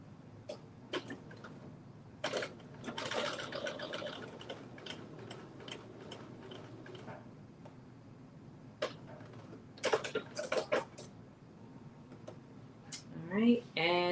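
A home sewing machine runs a long basting stitch along a garment's lower edge while sewing a Vogue 1953 pattern, producing soft ticking runs and short rapid bursts, with someone talking over much of it.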